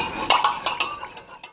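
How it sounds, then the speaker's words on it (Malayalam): A spoon stirs a homemade gargle mixture with lemon juice in a bowl, giving about seven light clinks and scrapes against the sides in an uneven rhythm. The sound is close and quiet, with no voices. "എന്നിട്ട് ഒന്ന് മിക്സ് ചെയ്യുക."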